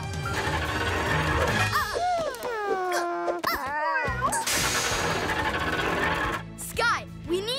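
Cartoon cats from PAW Patrol meow in rising and falling wails, with a few bursts of breathy hissing between them, mixed with busy background sound effects.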